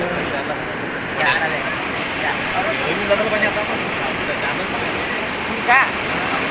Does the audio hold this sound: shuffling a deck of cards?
no